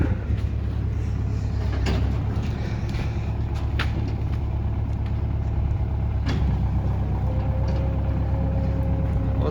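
A heavy tractor engine labors continuously close by, grinding and rumbling with scattered mechanical clanks and knocks as its wheels slip.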